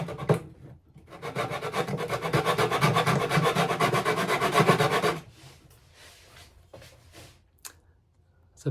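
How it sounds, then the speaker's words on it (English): A steel scraper rasps steadily across the wooden top of a 1950s Armin Paulus archtop guitar under restoration, a dense continuous run of strokes for about four seconds, then quieter scattered scrapes and light handling. "not with a chisel, with a scraper, and take off a bit."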